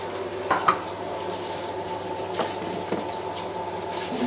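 Rosemary and garlic sizzle in a hot pan while being stirred for a lamb roast, a steady frying hiss with a few sharp clinks and scrapes of utensil against the pan near the start and middle.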